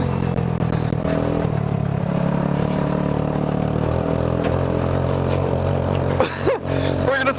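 A small go-kart engine buzzes and revs while driving, a loud steady drone with clattering and rising pitch near the end, with voices talking over it.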